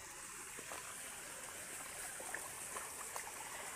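A countryside forest stream flows steadily in the background, a faint, continuous wash of water with small trickles and no voices.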